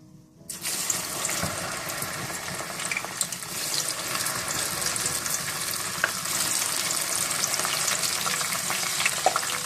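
Okra fries in open hot oil with a steady, close sizzle that starts abruptly and carries on, with occasional clinks and stirring; no voices.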